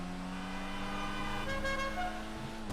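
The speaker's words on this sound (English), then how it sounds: "I got a horn too, jerks." A car horn blares in a sustained, loud tone over engine and traffic noise while driving in the video game Grand Theft Auto V, a steady honk with no talking.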